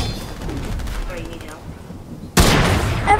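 Gunfire from the video game Fortnite: bursts of shots and a sudden loud blast near the end, mixed with game sound effects.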